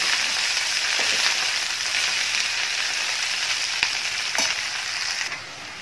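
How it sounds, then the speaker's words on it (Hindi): Spices and salt are stirred together in a hot frying pan. A continuous frying hiss is broken by a few light taps and scrapes from the spoon, fading slightly toward the end. "मिक्स कर देंगे सारे मसाले को।"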